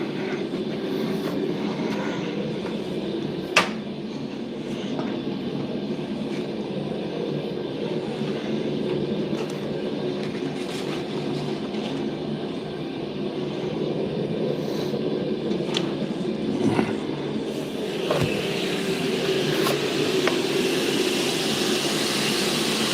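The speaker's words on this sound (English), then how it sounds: "Okay, now I just need to clean the surfaces. So I'm going to run the grinder." An angle grinder runs steadily over a Damascus steel billet made from crushed W's, a continuous broadband whir holding at an even level with a few sharp clicks.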